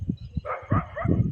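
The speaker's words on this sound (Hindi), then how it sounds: "ये देखो कुत्ते भी भौंक रहे।" Dogs bark a few times outdoors, short yapping bursts at moderate distance in a windy setting.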